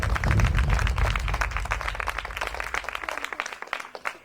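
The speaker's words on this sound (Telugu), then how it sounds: "కొట్టు చప్పట్లు గట్టిగా" An audience claps loudly at a church testimony gathering, a dense burst of many hands that slowly thins and fades over a few seconds.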